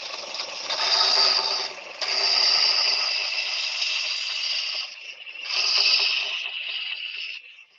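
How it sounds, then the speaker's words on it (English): A belt sander runs against an oak bowl with a steady high whirring hiss that swells and eases across several passes, heard close and alone. "I'm using my belt sander for that."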